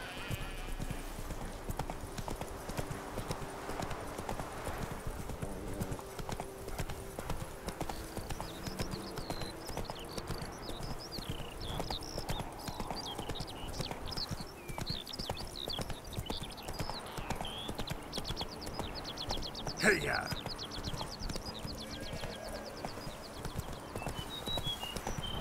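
Hooves of the horse Roach clip-clop in a steady walking rhythm in The Witcher 3, continuous for the whole stretch under ambient game sound, with a brief louder accent near the end.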